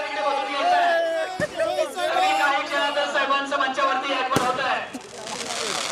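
A crowd of supporters celebrates an election victory in the Patan assembly constituency, a dense, steady hubbub of voices broken by two sharp firecracker-like bangs, with someone talking close over the noise throughout.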